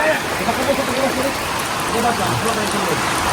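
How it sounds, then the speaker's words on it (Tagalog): Heavy rain pours steadily and loudly throughout, a dense continuous hiss near a house under construction, with a voice speaking over it. "Grabe ang lakas ng ulan."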